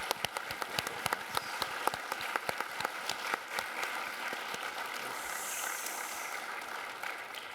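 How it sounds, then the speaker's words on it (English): Audience applause after a plenary lecture at a JpGU-AGU geoscience meeting, a burst of clapping that starts as distinct claps and settles into a steady patter before fading, no talk. "So let's give him another round of applause."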